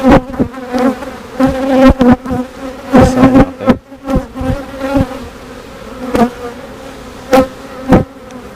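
Honeybees buzz loudly and close to the microphone as hive frames are checked for queen cells, their droning hum rising and falling in repeated surges broken by sharp knocks and clicks.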